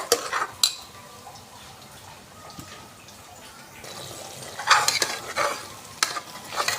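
Biryani masala sautéing and being stirred in a pan: a continuous close sizzle broken by scraping strokes and metal utensil clatter, louder in bursts toward the end.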